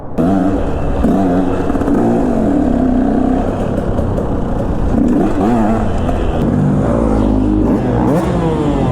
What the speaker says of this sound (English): Bet you that two-stroke sounds real good down here.